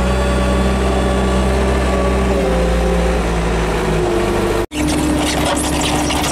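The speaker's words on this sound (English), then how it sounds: "Looks like plowing snow" A snow plow engine drones steadily while plowing snow, loud and close, with a brief cut before the rumble resumes.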